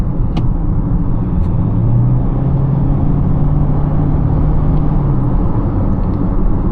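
A Toyota Corolla Hybrid accelerates to merge into traffic. A steady engine drone with a rising whine is heard from inside the car, alone and without talk.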